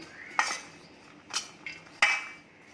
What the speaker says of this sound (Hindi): अब इन सब चीज़ों को अच्छे से मिक्स कर देंगे।